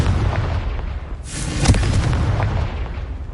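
The Confringo fire spell in the Hogwarts Legacy video game goes off as a booming explosive burst partway through. It sits over a dense, continuous rumble of game sound, with no speech.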